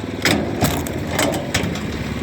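Mechanical log splitter, five years in service, running with its drive belt loosened at idle: a steady close engine-like drone with a few louder periodic thumps or crunches.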